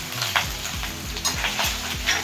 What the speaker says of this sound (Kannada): ನಾವು ಪೀಸ್ ಮಾತ್ರನೇ ತಗೊಂಡು ಈ ಥರ ಫ್ರೈ ಮಾಡ್ತಾ ಇದೀವಿ ನೋಡಿ.